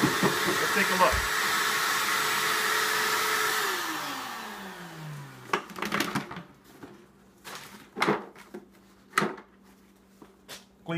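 Shop-Vac shop vacuum cleaning fiddleheads, a steady loud whine whose pitch slides down as the motor shuts off, followed by scattered knocks and clatter of handling the greens.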